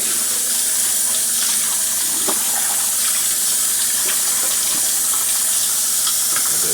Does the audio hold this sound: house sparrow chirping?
no